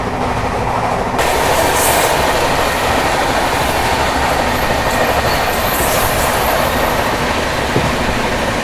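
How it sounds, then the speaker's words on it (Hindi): Pune AC Duronto Express rushing along at 130 km/h, a loud, steady roar of rails and wheels with rhythmic clatter heard from inside the coach, continuous throughout with no voices. "जब से निकले तब से 130 का एक्शन देखने के लिए मिल रहा है भाई अपनी पुणे दुरंतो में"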